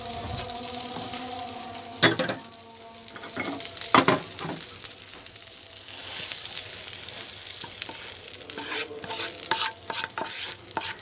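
Eggplant slices frying and being stirred in a pan for a Bengali vegetable meal, steady sizzling with repeated scraping spatula strokes and clatters throughout, close and fairly loud.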